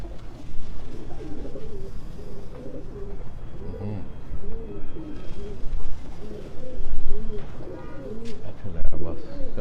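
Pigeons coo repeatedly in a rolling, overlapping chorus at a pigeon fancier's loft in Quetta, fairly close and steady throughout, with other birds chirping faintly in the background.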